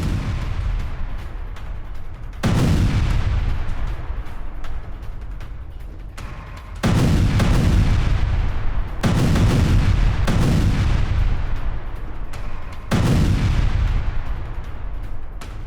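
Heavy blasts from a Ukrainian air force GLSDB guided bomb attack on Russian positions: several deep, loud booms, each followed by a long rumbling decay, spaced a few seconds apart.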